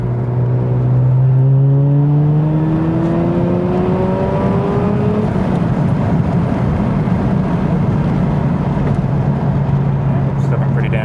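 A turbocharged Mazda RX8 with a Renesis rotary engine accelerates hard on a dyno, its loud whirring note rising through a gear, then dropping and climbing again as a close, sustained roar.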